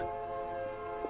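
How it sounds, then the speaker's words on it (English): A sustained train horn tone holds steady, moderately distant and fairly quiet, with a faint tick near the end. "Hey, Doug, I'd just like to point out that's the sound of the Freedom Train."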